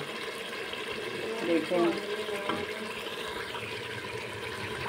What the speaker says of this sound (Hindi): ये देखें मैंने तकरीबन 3 से 4 ग्लास पानी के ऐड कर दिए